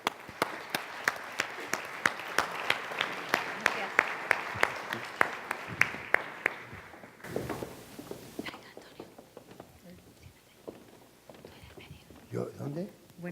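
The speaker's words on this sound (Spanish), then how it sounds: "pido un fortísimo aplauso para ellos" Applause for guests Antonio and Federico at an alumni presentation event, a crowd clapping for several seconds, then quieter hall noise and talk.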